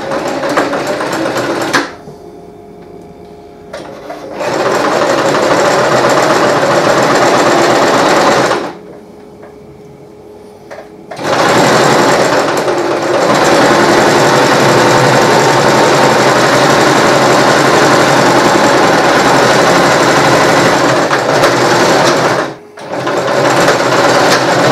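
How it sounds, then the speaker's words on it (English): A sewing machine stitches squares onto rectangles of a wool-style Viking hood in long, loud, steady whirring runs, stopping briefly twice before starting again. "I put the squares onto the rectangles"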